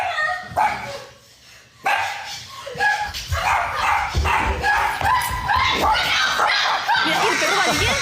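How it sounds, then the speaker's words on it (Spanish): A dog barks in sharp, repeated bursts that are loud and close, mixed with yips and whimpers, while people talk over it. "el perro... Mira, ahí lo escuchamos"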